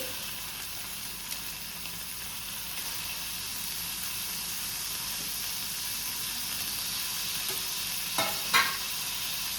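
Egg bhurji with tomatoes and garlic paste frying and being mixed in a pan, a steady high sizzle with a couple of brief spoon scrapes near the end, close and with no talk.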